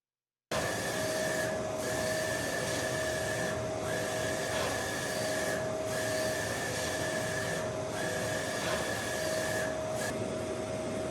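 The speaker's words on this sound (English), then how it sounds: "I will show you the video of it actually printing" Steady mechanical whir of a printer running a raster image job, continuous and fairly even, with a high tonal whine that cuts out and returns every couple of seconds as the head passes; no voices.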